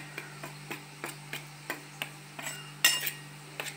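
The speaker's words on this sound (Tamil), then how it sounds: "மிக்ஸ் பண்ணிக்கலாம் இதை நல்லா" Cassava chips are tossed with salt and chili powder, making light, rhythmic clatters about three times a second over a low, steady hum, with one brief brighter rattle near the end.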